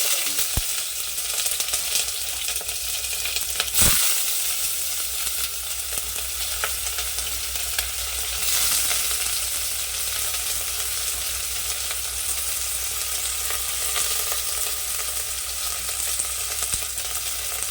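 Whole spices such as cinnamon and cloves fry with onions in hot oil, a loud, continuous close sizzle with occasional stirring scrapes and one sharp clatter early on; no one speaks.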